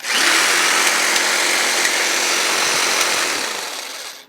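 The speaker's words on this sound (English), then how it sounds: "Now here's the jigsaw, and let's take a look at that." A jigsaw powered from a VATID 600W power station runs with a loud, steady high-pitched whine and rattle, holding constant before winding down at the end.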